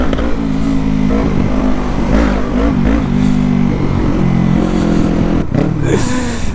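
A Yamaha MT-25 motorcycle revs hard in one continuous loud engine roar with rising and falling pitch, close by and without a break for the whole stretch.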